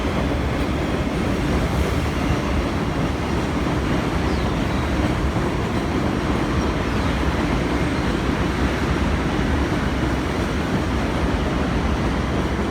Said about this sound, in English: oh, hold on, the train is passing.